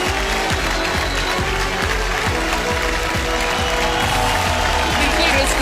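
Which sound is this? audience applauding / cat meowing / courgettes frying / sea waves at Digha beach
audience applauding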